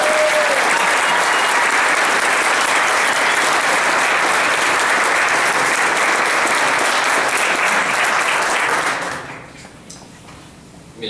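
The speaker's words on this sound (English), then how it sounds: "Let's give them a big round of applause." An audience at an Air Force Junior ROTC change of command ceremony applauds loudly and steadily for about nine seconds, then the clapping fades quickly to quiet room tone.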